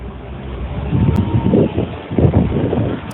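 Wind buffets a microphone on a city street while construction work with a jackhammer and circular saw rumbles in uneven bursts underneath, loud and close.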